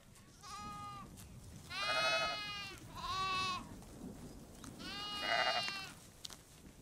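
A lamb bleats four times on a sheep farm in the Auvergne's Massif Central, clear and moderately near over a soft rustling outdoor background.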